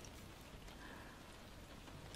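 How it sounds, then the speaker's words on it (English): Heavy rain falls outside at night in a soft, continuous patter, faint and distant as if heard from indoors, steady throughout with no voices. "I know it's raining so hard outside"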